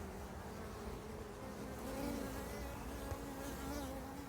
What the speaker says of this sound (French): Et voilà, faux bourdon s'est envolé.